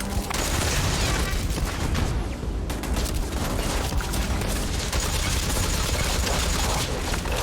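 Rapid automatic fire from a drum-magazine gun in Starfield, loud and sustained for several seconds, with one brief lull before the shots pour on again.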